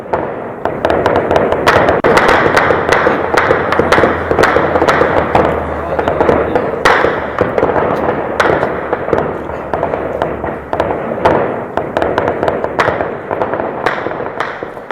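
Continuous bursts of sharp gunfire from an ongoing encounter between security forces and militants in Shopian, Jammu and Kashmir, cracking loud and rapid in irregular clusters throughout, with some dull thuds.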